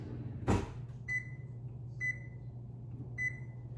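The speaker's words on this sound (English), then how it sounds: "Now I will set the timer to 7 minutes at first" A kitchen oven timer is set, giving three short electronic beeps spaced about a second apart after a soft click, over a steady low appliance hum.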